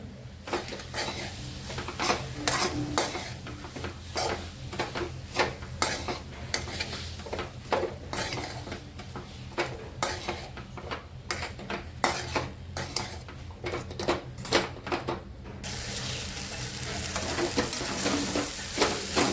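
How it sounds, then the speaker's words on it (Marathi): Egg fried rice with soya chunks being stirred in a pan, a steady run of metal spatula scrapes and clinks against the pan with a soft sizzle underneath, close and continuous with no talking. "माझ्याकडे सोया पोळी होती ती सुद्धा घालून घेणार आहे मिक्स करून घे"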